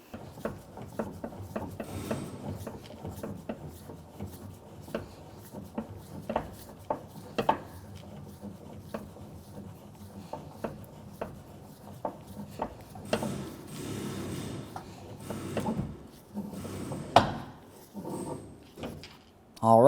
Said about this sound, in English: let's go ahead and start jacking it up into its proper position